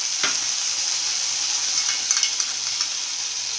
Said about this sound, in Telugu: ఇలా వేగిన తర్వాత దీనిలో సోయా సాస్ కొద్దిగా వేస్తున్నాను